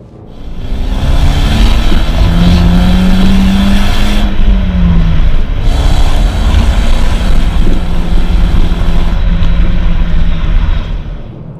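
A BMW E90 320si race car accelerates hard, its engine roaring loud and close with rising harmonic sweeps through the gears, a brief lift around the shift and continuous strong drone to the end.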